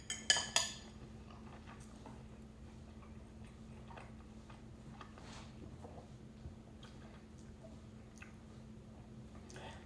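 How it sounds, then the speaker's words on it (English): A knife trims excess fat off meat. It opens with a few sharp clicks against a board, then settles into faint, scattered taps and soft scraping. "I cut out the excess fat in these"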